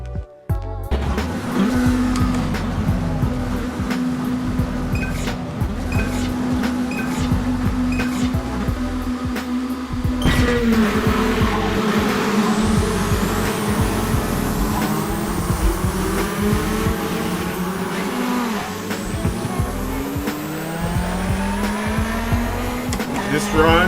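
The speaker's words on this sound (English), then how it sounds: "it's because the car doesn't brake" Car engine in a video game whose car does not brake properly, revving up and down in rising and falling sweeps with repeated tire squeals and skids, loud and continuous, while a person talks over it.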